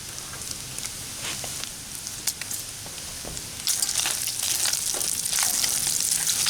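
Bacon pieces frying over a Solo Stove campfire, crackling and spitting in a steady sizzle that swells into a louder, denser hiss partway through, close by with no talking.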